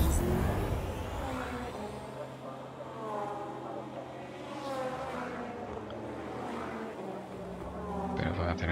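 Race car engine in the endurance racing management game GT Manager 24, slightly overheating on the straight: a steady droning motor with rising revs, heard under continuous talk.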